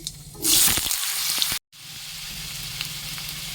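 Potatoes hit hot oil with five-spice (panch phoron), giving a loud burst of sizzling that settles into a steady frying hiss, with a brief dropout midway.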